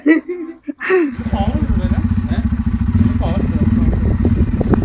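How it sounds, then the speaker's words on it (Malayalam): After a moment of voices, a motorcycle engine starts and runs close by, a loud, rapid, even putter that keeps going. "അലിന്റെ ബൈക്ക് ഓടിച്ചു നോക്കാൻ പോവാട്ടോ"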